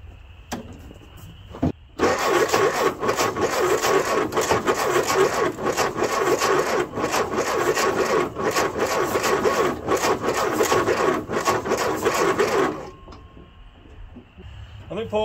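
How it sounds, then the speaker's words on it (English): A stored M151A2 MUTT jeep's starter cranks the engine in a long, loud, labored grind of about eleven seconds after a brief false start, with quieter idle noise before and after. "that starter ain't real enthusiastic about turning over. Let me give her another shot."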